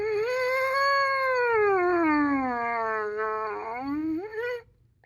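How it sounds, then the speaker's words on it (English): Lips buzzing into a trumpet mouthpiece slide through different notes, falling slowly and then rising again in one continuous wavering tone of about four seconds, close and clear. "it's kind of fun to try out different notes on the trumpet mouthpiece"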